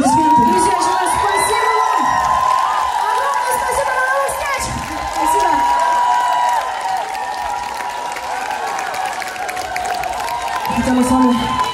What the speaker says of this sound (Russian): Оля, пожалуйста, аплодисменты.